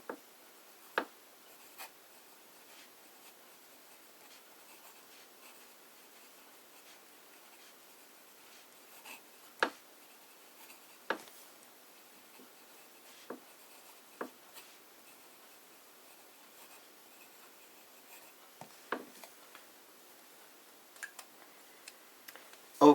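An italic-nib fountain pen writing with Diamine Oxblood ink on paper makes faint, sparse scratches and ticks scattered across a quiet room, with no voices.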